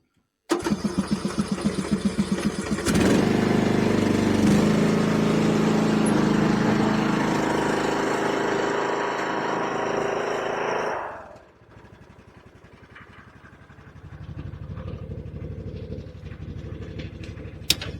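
A small riding-tractor engine being readied for an Arnold snow blade cranks and catches, roaring loud and close for several seconds, then drops abruptly to a lower, steady idle.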